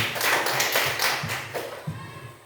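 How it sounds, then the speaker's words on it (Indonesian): A classroom group claps briefly for a student during an informatics lesson, a short patter of hand claps in a few uneven bursts, close and moderately loud. "Tepuk tangan untuk Sofia."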